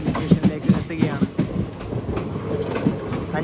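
A train pulls into Nileshwaram railway station, its wheels clattering over rail joints in a loud, uneven rhythm of thumps and clicks that eases toward the end.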